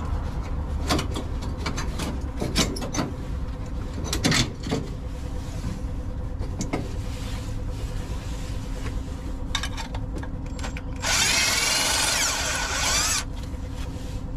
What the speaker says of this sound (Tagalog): Dapat meron din kayong ganito impact para mabilis ang gawa.